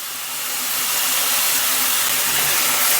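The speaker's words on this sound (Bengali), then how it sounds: "অল্প নাড়িয়ে নিচ্ছি।" Potatoes being stirred as they fry in a pan with whole cumin seeds, dried red chillies and salt, producing a steady, dense sizzling hiss that builds and then holds without any talking.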